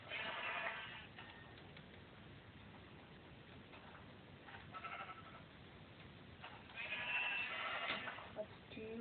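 Minecraft sheep bleat in three separate bursts spread across the stretch, the last loudest, over a low in-game ambient bed without talk.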